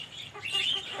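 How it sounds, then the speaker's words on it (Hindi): An Aseel hen clucking at close range, short soft clucks in a brief burst, fairly faint, with no talk over it. "ये घर की मुर्गी है, बड़ी ज़बरदस्त चीज़ है"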